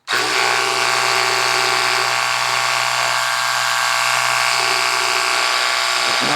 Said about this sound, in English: Got the Ryobi powered up.